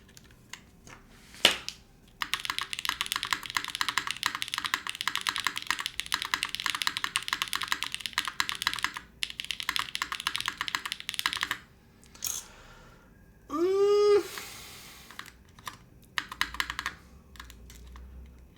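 Mechanical typing on a Haven60 gasket-mount keyboard with keycaps refitted, a flat, glassy clatter in dense bursts of keystrokes with short pauses, close and alone, plus a brief tonal sweep near the end.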